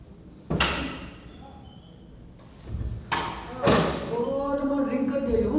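A classroom door is pushed shut: a sharp thud, then two more knocks a few seconds later, with a voice speaking toward the end.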